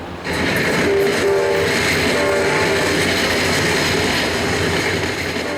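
A loud, steady rumble of a train at a railway station, continuous and close, filling the whole stretch without voices.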